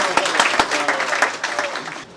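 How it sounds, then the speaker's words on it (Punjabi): An audience at a Punjabi poetry book launch breaks into loud, close applause that swells and then fades out after about two seconds. "ਭਰਪੂਰ ਤਾਲੀਆਂ ਜੀ"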